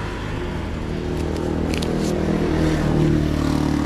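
Motorcycle engines drone steadily on a long-distance ride across the Philippines toward Mindanao, a close, continuous hum with a slowly building roar and light rattles over wind noise.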